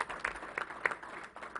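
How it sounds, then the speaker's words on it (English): Brief, light applause from an audience at a New York governor's press briefing, a patter of claps rising and fading in short bursts rather than a sustained roar. "Let's give her a round of applause."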